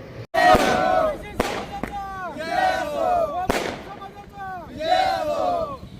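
A crowd in Paranda celebrates central approval of a caste-based census, with loud rising shouts and cheers repeating in waves, punctuated by several sharp firecracker-like bangs.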